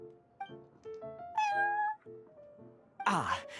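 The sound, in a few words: cat meowing in the video game Genshin Impact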